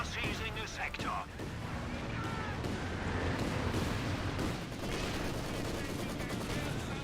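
Artillery barrage in Company of Heroes 2, with Katyusha rockets and mortars in the mix, rumbling as dense continuous booms and crackling gunfire throughout under a commentator's talk.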